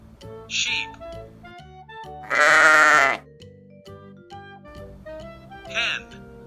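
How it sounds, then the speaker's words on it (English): Sheep bleating once, a loud, close, wavering call of about a second, framed by brief spoken words before and after in a children's farm-animal lesson. "Sheep."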